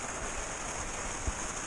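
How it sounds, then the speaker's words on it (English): Rain drumming on the roof of a 1973 VW camper van during a heavy storm, a dense, even hiss with a single soft thump near the end. "Well, listen to this rain."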